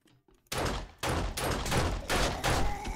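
Gunfire from the zombie survival game 7 Days to Die, played on an aircraft carrier mod: a quiet start, then loud bursts of shots beginning at about half a second and repeating in heavy volleys every half second or so.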